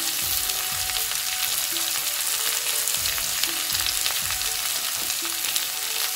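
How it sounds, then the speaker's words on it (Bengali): Potatoes go into a pan of fried onions for a chanda fish curry with potatoes, making a dense, steady sizzle close by. Scraping stir strokes recur through it, with no voices. "পেঁয়াজটা ভালো করে ভাজা হয়ে গেছে, ভেঙে রাখা আলুটা এখন দিয়ে দেব"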